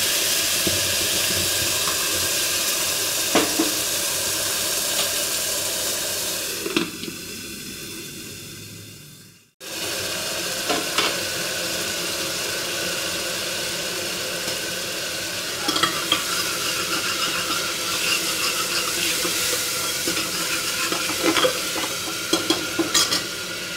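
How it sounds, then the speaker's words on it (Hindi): Ground garlic and onion paste sizzles steadily in a hot pan for a home-made arbi and nenua mixed vegetable dish, with repeated spoon scrapes while stirring; a brief dip near the middle, then the close frying hiss resumes with no talk. "इसके बाद हम इसमें पिसा हुआ लहसुन और प्याज का पेस्ट डाल देंगे।"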